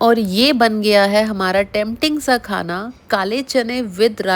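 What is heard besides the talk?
None of the usual background noises is heard.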